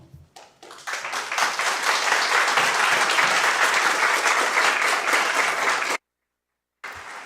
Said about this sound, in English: we've asked for no applause